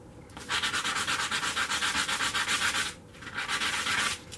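Someone sands the head of a leather stamping tool on 120 grit sandpaper in long, steady back-and-forth strokes. The close, raspy scraping runs continuously with one short pause.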